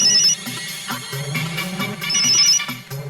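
A phone ringtone playing in a Hindi TV serial, a loud melodic electronic tune repeating in a looping phrase with bright high chimes, with no voices over it.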